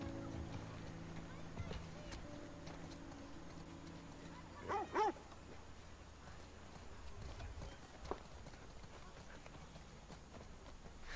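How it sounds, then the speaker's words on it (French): Dog in the video game The Last of Us Part II, a few short barks and whines over quiet game ambience with hoof-like clopping and soft footsteps. "On peut aussi caresser le chien"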